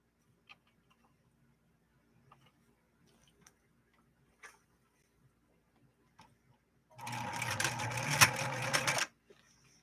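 A Viking 3600 sewing machine runs a stitch in one loud, close burst of rapid mechanical clatter lasting about two seconds, after a few faint scattered ticks and clicks in near silence.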